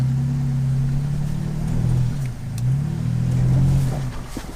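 Third-generation Toyota Tacoma in four-high on a wet off-road trail, engine droning and revving up in two swells as the wheels spin, loud and close, with no talk.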